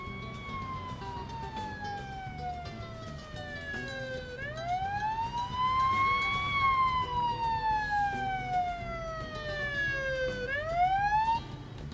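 A wailing ambulance siren in the Police Simulator video game sweeps slowly up and down in long, loud, continuous glides that rise and fall over low road rumble, with no talk.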